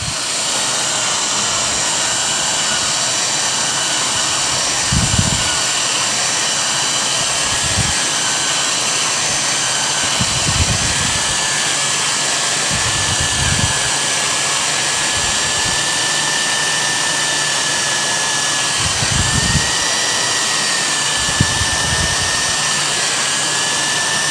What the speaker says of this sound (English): tell you to just put the drill all the way down and start slow